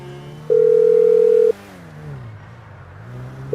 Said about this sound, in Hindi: फोन कर दे उसे